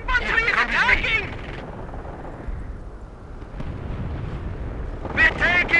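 In the World War II strategy game Company of Heroes, booming artillery and bursts of gunfire rumble and crack continuously and loudly, with soldiers' voices shouting at the start and end.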